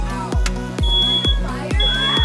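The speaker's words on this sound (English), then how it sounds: "the smoke detector's going off!" A smoke detector sounds indoors amid Fourth of July fireworks chaos, a steady high alarm tone running over a string of regular dull thumps, fairly loud and close.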